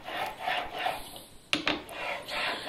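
A chisel being sharpened on a diamond stone, rhythmic scraping strokes of steel on the abrasive surface, close and fairly loud, with a sharp clack midway as the tool shifts.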